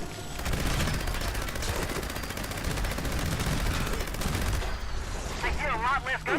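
Sustained bursts of rapid gunfire in the Fallout 76 video game, loud and continuous for several seconds before easing off, followed by a short stretch of speech.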